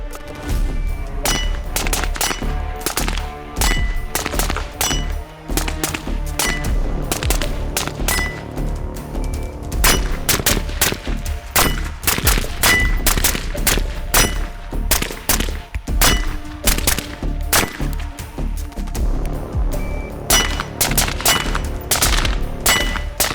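An AR-15 rifle with a carry handle firing steady rapid shots at targets outdoors, each loud crack followed by metallic clangs and pings from hit steel, continuing across the whole stretch without talk.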